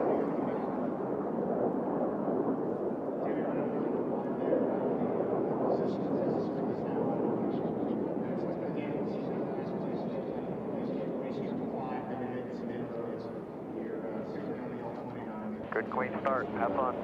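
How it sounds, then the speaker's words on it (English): Jet-class race aircraft on a racing course roar steadily as a dense, continuous rumbling wash with a commentator talking over it throughout. "we will be underway, Tommy, for 6 laps at 500 miles an hour here in the jet class."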